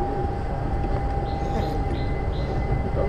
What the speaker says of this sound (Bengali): আমি এখন মালয়েশিয়ার মেট্রো রেলে চলে যাচ্ছি